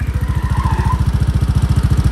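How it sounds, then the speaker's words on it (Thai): A Honda PCX150 scooter engine idles close by, a steady rapid chugging pulse with a loud, even rhythm and no talking. "เครื่องยนต์แบบเลยว่านิ่งมากเดินเบานิ่งๆเลยครับ"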